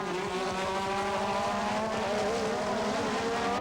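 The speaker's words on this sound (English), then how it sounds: "he was through on the inside of Piquet and accelerating away into a lead that he was never to lose" Formula 1 cars at the 1987 Spanish Grand Prix roar past loud and close, their high-revving engines layered in a continuous dense howl with rising and shifting pitches.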